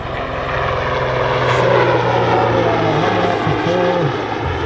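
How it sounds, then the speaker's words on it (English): A large, heavy Super Puma helicopter roars steadily through a tight turn at an airshow, its loud rotor and turbine drone sustained and close, with tonal engine whine shifting slightly as it banks. "now it shows you the maneuverability of this large helicopter in a tight turn"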